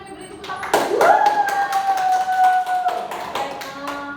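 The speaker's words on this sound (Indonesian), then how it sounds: "Beri tepuk tangan." Students in a classroom clap together in a short burst of applause that rises and fades over a few seconds, with a sustained tone and some background noise beneath.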